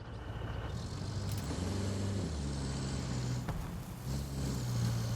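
A truck driving in the video game Roadcraft, with a steady low engine drone and rumble that holds throughout and shifts pitch slightly as the load changes, alone without talk.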